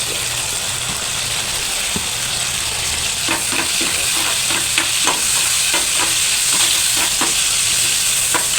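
Tomatoes sauté in a frying pan with a loud, constant sizzle, while rhythmic scraping stirs tap and clatter against the pan throughout.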